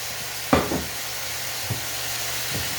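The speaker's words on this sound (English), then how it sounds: "a large can of the Bush's baked beans. I'm going to dump that into my skillet right here" Bush's baked beans from a large can are dumped into a hot skillet, landing with a soft wet plop. A low, steady sizzling hiss follows, broken by a couple of faint later taps.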